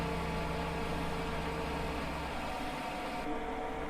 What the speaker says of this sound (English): Listen to that engine rev.